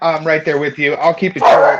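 A dog barks and yips at home behind someone talking, its sharp bursts mixed in with steady speech and rising louder near the end.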